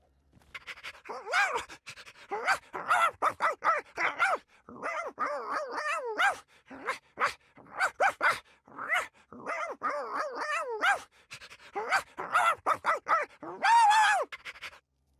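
Krypto the Super Dog from the LEGO Batman 3: Beyond Gotham video game barks, pants and growls in repeated bursts, loud and close, with a voice talking between the sounds.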